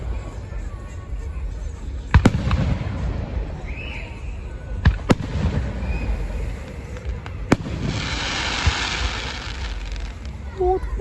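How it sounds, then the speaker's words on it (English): Fireworks bursting at a Juneteenth celebration, with several sharp booms spaced across the scene, one followed by a long crackling shower, over steady crowd noise and people chatting nearby. "Look at the fireworks."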